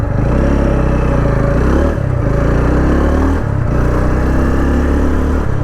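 A TVS Ronin motorcycle engine labours and falters on the road, its steady drone dropping out briefly around two and three and a half seconds before catching again, loud and close, with no talk.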